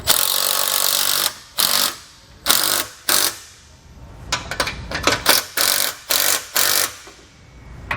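Ratchet wrench tightening the lower bolt on a Blue Ox TrackPro weight distribution hitch, in loud, close bursts of rapid clicking: several long cranks, then a quicker run of short strokes, with brief pauses between.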